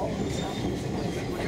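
A narrow-gauge, two-foot-gauge Ffestiniog Railway train passes through a Welsh village with a steady, close rumble and rolling noise, while people talk over it.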